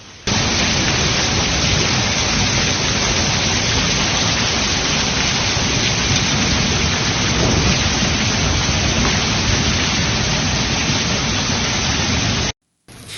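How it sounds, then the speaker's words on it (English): Hail storm with heavy rain hitting Piedrabuena in central Spain, a loud, dense, unbroken roar of pounding precipitation lasting throughout with no voices. "The usually sunny central region of Piedrabuena, Spain, has been hit by rain and hail,"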